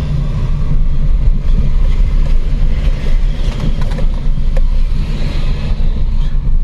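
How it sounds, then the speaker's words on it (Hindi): Vehicles pass one after another on a road through Mohan forest near Jim Corbett National Park at night, making a steady rumbling engine and road noise heard from inside a moving car, without a clear break between them. "बैक टू बैक रेलगाड़ी, ये देखो रुक ही नहीं रही है।"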